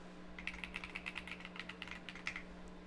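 A password typed on a computer keyboard: a quick, steady run of light key clicks lasting a couple of seconds, fairly soft, over a low constant electrical hum.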